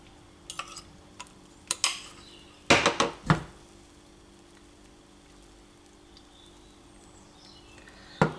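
Chickpea flour batter spread around a hot pan, heard as a few sharp clinks and scrapes of utensil on pan followed by a quiet, steady background with faint sizzling, no talking.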